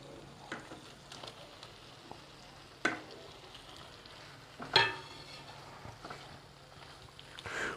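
Cut, unfried paneer cubes are stirred into spiced masala frying in a pan. A low, steady sizzle runs under a few sharp spatula scrapes and knocks, one of them louder near the end.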